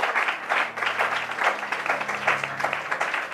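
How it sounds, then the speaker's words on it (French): A church congregation applauding and praising the Lord during a French Bible teaching broadcast, steady loud clapping from many hands throughout, with faint voices underneath. "Tu peux acclamer le Seigneur."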